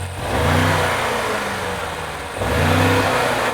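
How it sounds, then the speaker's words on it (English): A BMW M5 CS sports car engine revs up loudly nearby, rising to a roaring peak, easing back, then surging again in a second rev. "Give it some revs."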